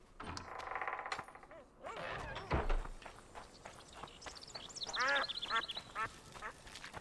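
A duck quacks several times within the game world of The Witcher 2, short nasal calls scattered among footstep-like clatter and ambient game sounds, fairly soft overall.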